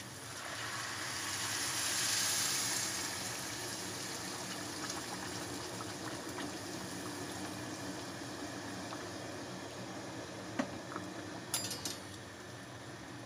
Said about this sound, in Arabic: نبتدي بقى ننزل بالماء الساخن